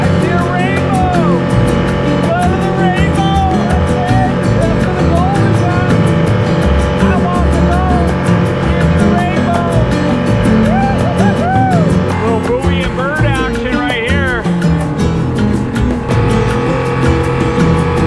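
Outboard motor on a skiff cruising Mag Bay (Bahia Magdalena), a loud continuous engine drone with wind and water noise, a voice speaking over it at times.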